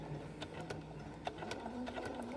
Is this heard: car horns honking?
no